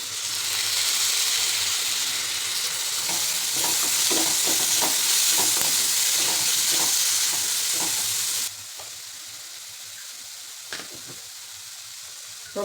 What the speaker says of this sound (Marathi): कांदा छान परतलेला आहे त्यामध्ये टोमॅटो घालायचं